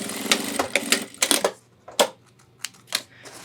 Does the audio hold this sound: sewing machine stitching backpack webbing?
yes